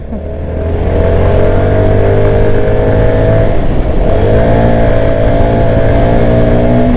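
A Keeway/Benelli K300 N motorcycle engine on a test ride hums and rises in pitch as it accelerates, eases briefly, then pulls again, loud and close with steady wind rush and no talking.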